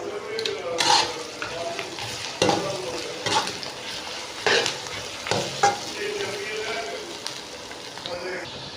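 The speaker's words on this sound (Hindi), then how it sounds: "यहाँ पे हमने अपनी कढ़ाई में प्याज और खड़ा मसाला डाल के हम इसको अब फ्राई करेंगे।" Onions and whole spices fry in a karahi, with a low sizzle broken by repeated stirring scrapes and clatters, close and fairly quiet.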